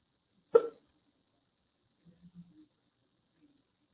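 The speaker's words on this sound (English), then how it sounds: "I keep getting hiccups." A person hiccups once sharply and close, followed by a few small soft throat catches and faint breaths in an otherwise quiet room.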